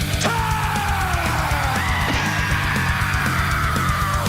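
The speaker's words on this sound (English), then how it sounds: "That's a weird scream, considering what his voice ends up sounding like." A cartoon character lets out a long, loud, strained scream that holds for several seconds with a wavering pitch, close and continuous over a dense animated soundtrack.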